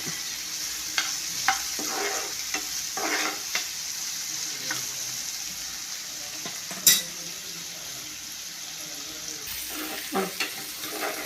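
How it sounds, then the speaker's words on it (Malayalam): Thinly sliced medium onions sautéing in ghee in a pan for Kerala-style paneer masala: a steady close sizzle with intermittent stirring scrapes and a few sharp utensil clinks, no voices. "ഇടത്തര സവോള ഇതിലേക്ക് ഇട്ടിട്ടൊന്ന് വറുത്തെടുക്കുകയാണ്"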